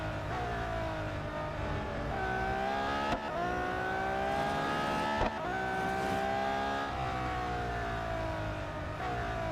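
A racing car engine from the video game Real Racing 3 drones steadily at high revs, its pitch rising and dipping through gear changes and corners, loud and continuous without speech.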